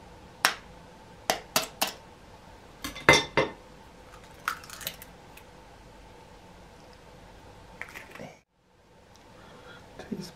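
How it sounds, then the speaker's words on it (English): Egg and vanilla essence being beaten in a bowl for melting moments biscuits, heard as scattered clinks and taps of utensil against bowl over a quiet background, with a brief silence near the end. "Beat the egg and a teaspoon of vanilla essence together."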